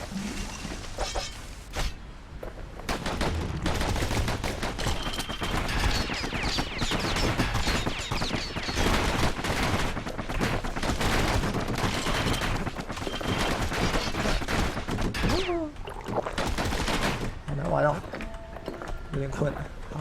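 Rapid gunfire from the action game Bastion crackles densely and continuously in the foreground, mixed with footsteps and game effects while a narrator's voice speaks over it.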